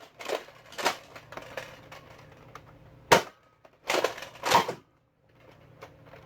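A Nerf Tyrant toy blaster fitted with Mega Darts, heard as a series of sharp plastic snaps and clacks in irregular bursts, one especially crisp shot in the middle, with quiet gaps between.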